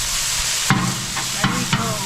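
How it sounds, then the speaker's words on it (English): Vegetables and frozen steak meat sizzle steadily in a pan, a constant close hiss broken by a few scraping knocks of the utensil as they are stirred. "We're stirring in all our vegetables here."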